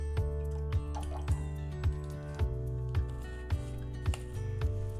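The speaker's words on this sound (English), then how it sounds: "we will use our milk of magnesia, filling it up to the 100 milliliter mark" Milk of magnesia glugs in repeated thick, regular pulses as it is poured into a lab beaker up to the 100 millilitre mark. The pour sounds close and moderately loud, with no talking over it.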